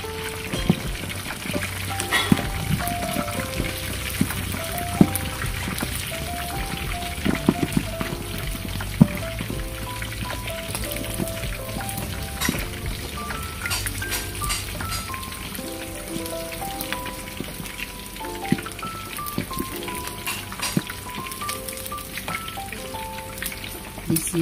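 Pork rolls frying in hot oil give off a dense, continuous sizzle and crackle with scattered pops, loud and close throughout with no voices.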